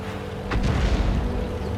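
A 105 leFH18B2 self-propelled artillery gun fires in a tank battle game on the Steppes map, a single deep booming shot with a rumbling tail, loud and close, with no talking.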